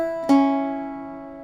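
An Irish bouzouki picks a group of three notes on the first and second strings, with a clear plucked attack and a bright note that rings out and slowly fades, close and alone.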